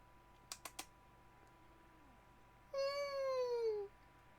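A white cat gives one clear, fairly loud meow at a door, a single drawn-out call lasting about a second, preceded by a few faint sharp clicks in an otherwise quiet room.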